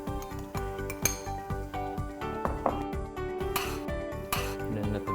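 Cooked pasta goes into a pan of garlic pesto cream sauce with lobster and is tossed, bringing repeated clinks and scrapes of utensils against the cookware. The tapping comes at an irregular rhythm, moderately close and fairly quiet.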